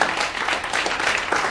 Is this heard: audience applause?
yes